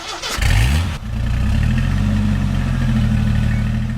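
A car engine cranks briefly, catches and settles into a steady, rumbling idle, close and loud with no talk over it.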